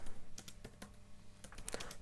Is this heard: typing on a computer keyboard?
yes